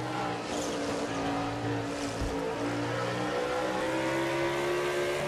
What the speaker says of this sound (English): Moves him up to 7th place right now in the number 3 machine as we jump inside Cole Deaver's truck